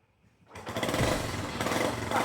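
A Honda CT90 motorcycle's small engine catches after a quiet half second and then runs loudly and steadily at close range, with a brief surge near the end.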